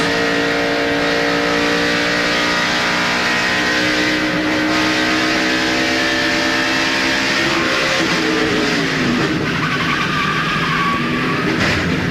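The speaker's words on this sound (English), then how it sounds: "listen when he comes off 4, when he sees those cars, how he backs off the gas" A NASCAR stock car engine at the 2002 UAW GM Quality 500 drones loudly at high revs coming off turn four, then the pitch sags as the driver lifts off the throttle, with tire noise and the roar of the track.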